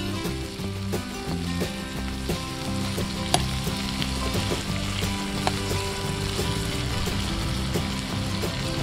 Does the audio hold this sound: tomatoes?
yes